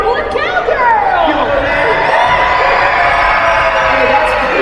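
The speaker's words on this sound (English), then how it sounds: "scream as loud as you can for Jessie, the yodeling cowgirl" A large crowd of children at Disneyland screams, cheers and whoops together at a character show, a loud, dense and sustained wall of excited shouting filling the whole stretch.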